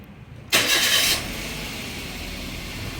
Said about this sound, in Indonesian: Kita start mesin kita.